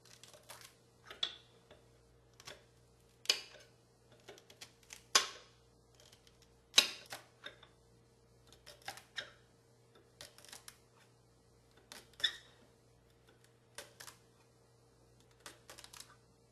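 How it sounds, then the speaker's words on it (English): A knife chops celery on a cutting board in a quiet kitchen, producing sharp, irregular taps and knocks spaced about a second apart, close and fairly soft over a faint steady hum. "So I'm just going to start chopping."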